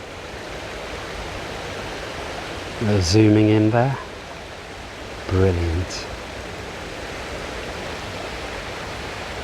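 Steady broadband rush of a small man-made waterfall on an island in Regent's Park, London, continuous and fairly loud, with a person speaking briefly twice over it.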